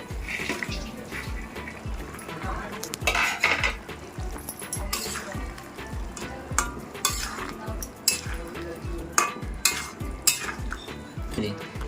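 Pre-fried chicken pieces go into a pan of chili chicken sauce and are stirred, with repeated rhythmic scraping and clinking of a spatula over a low bubbling sizzle, close and fairly loud.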